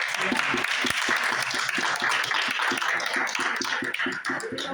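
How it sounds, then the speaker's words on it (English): An audience gives a round of applause, with crisp, closely packed claps from a crowd held at a steady level throughout. "can we please acknowledge Randy and give him a round of applause?"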